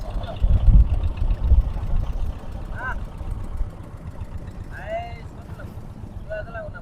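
A motorboat engine rumbles low on the Bangshi river in Savar, strongest in the first few seconds and then fading to a softer drone, while people talk over it.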